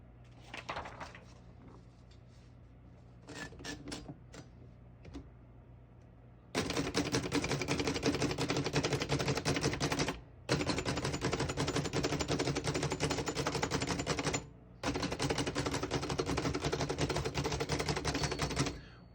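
Rapid typing on a 1937 Remington Noiseless Model 7 portable typewriter, dense runs of muffled key strikes in three long bursts separated by brief pauses, preceded by a few softer scattered clicks and handling sounds.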